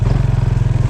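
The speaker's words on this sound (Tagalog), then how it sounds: "ito pong motor na service namin, lumang XRM to" Close, loud chugging from an old Honda XRM motorcycle, its small engine ticking over in a rapid, regular pulse.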